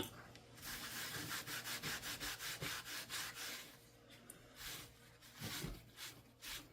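A nail art stamping plate is scrubbed clean with rapid back-and-forth rubbing strokes, soft and close, in short rhythmic bursts with brief pauses.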